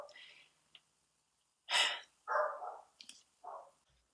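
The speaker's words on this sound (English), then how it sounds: "Sorry, that was my dog barking." A few short, sharp dog barks ring out in separate bursts, close by, with brief quiet gaps between them.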